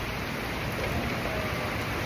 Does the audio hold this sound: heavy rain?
yes